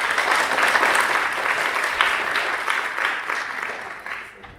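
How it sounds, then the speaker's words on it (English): A university conference audience applauds a speaker, a full, steady round of many hands that fills the room and then tapers off toward the end, with no talking. "Big applause."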